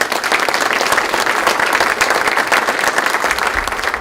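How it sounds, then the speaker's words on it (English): Loud, sustained applause from a chamber of commerce breakfast audience honouring a sponsor, many hands clapping steadily and densely close by throughout, with no voices over it. "Let's give a round of applause for sponsoring"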